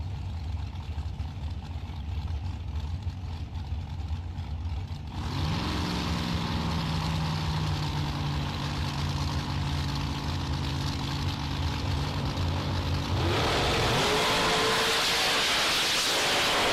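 Pro-charged dragster engine at a drag race, idling low and rumbling before rising sharply into a loud, sustained roar, then surging even harder near the end.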